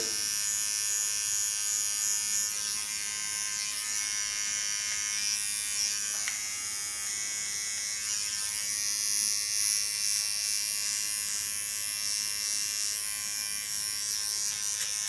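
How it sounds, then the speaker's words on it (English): A small Keone electric hair clipper with a ceramic blade cuts hair, giving a constant high buzzing hum that stays close and steady with slight wavering and no talking. "Going over to my small keone clipper. And using a ceramic blade,"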